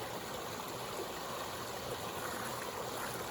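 A small outdoor stream flows steadily with a constant rushing, bubbling wash, moderately loud and close, with no voices.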